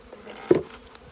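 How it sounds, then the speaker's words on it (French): Honeybees buzz during the installation of a nucleus hive: a single brief, close buzz swells and fades against a quiet background. "Je vais juste tasser les abeilles."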